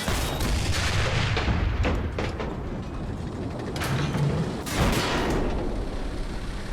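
Enemy bombardment in the WWII shooter Enlisted, with heavy booming explosions and rumbling impacts rolling close by, several sharp blasts standing out against a constant loud battle din.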